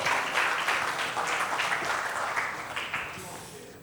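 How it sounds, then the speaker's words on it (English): An audience at a trainers and speakers conference applauds, a dense burst of clapping that stays steady and then slowly fades over a few seconds. "Big round of applause for Grand Gurvinder."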